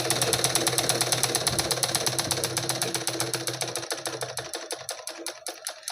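A sewing machine stitches blouse cloth in a fast, even mechanical rattle with a steady pulse, loud and close, slowing and thinning toward the end.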